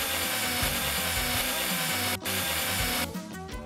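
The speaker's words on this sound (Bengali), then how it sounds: "আমি কোণাগুলোতে স্ক্রু আটকে দেব।" Screws are driven into the wooden corners of a bunk bed with a tool, producing a continuous, loud grinding and whirring with a rhythmic low pulse, briefly cutting out before resuming.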